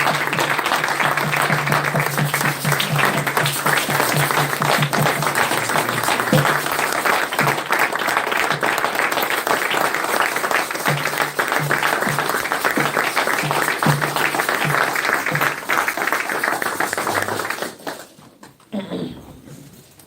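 A congregation applauds loudly to acclaim the Lord at a worship gathering, a dense, sustained wash of many hands clapping for about seventeen seconds before it stops abruptly, with some voices mixed in.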